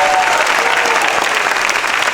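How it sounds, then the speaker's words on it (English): Loud, sustained applause from a large crowd at a Disney's Hollywood Studios anniversary ceremony, a dense wash of clapping that holds steady throughout. "Let's give them another round of applause. Let them hear it."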